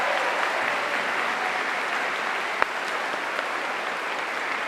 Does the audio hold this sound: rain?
no